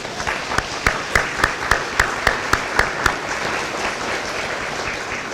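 Graduates at a college commencement ceremony applaud together in a large hall, a broad wash of clapping with a few loud rhythmic claps punctuating the first few seconds.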